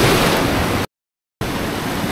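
Strong surf crashing at Laki Beach in Mariveles, Bataan, in rainy season, a loud continuous roar of breaking waves with a brief silent gap.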